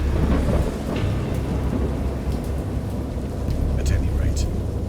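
A thunderstorm with heavy rain pours down steadily, a dense close hiss of rainfall over deep rolling rumbles of thunder, with a few brighter crackles breaking through.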